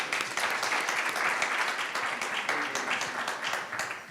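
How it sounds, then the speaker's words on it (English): A business roundtable audience clapping together, a dense, continuous burst of applause lasting several seconds before tapering slightly at the end. "Can we clap for ourselves?"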